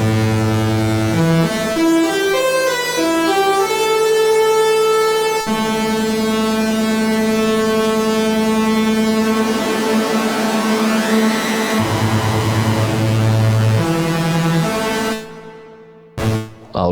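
Korg Prologue16 synthesizer arpeggiator playing a rapid, steady stream of notes through a cone-like filter, loud and bright, with the tone sweeping and shifting over held pitches before cutting off abruptly near the end.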